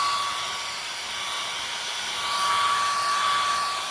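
A handheld hair dryer blows steadily on an 11x14 stretched canvas of wet acrylic paint, a constant close whooshing hiss with a thin whine, heard alone with no talk.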